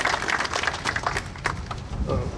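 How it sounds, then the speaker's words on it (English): An audience at an outdoor home dedication ceremony for local heroes claps steadily, a fairly close, continuous patter of many hands sustained throughout. "Well-deserved round of applause"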